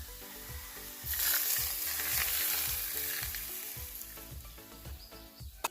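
Garlic cloves frying in hot oil for Korean potato noodles, giving a bright, hissing sizzle that swells and keeps going, with a steady run of soft low knocks from stirring underneath and one sharp tap at the close.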